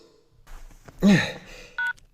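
Telephone keypad dialing a phone number: a couple of short, clear dual-tone beeps separated by a pause, alone over faint background noise.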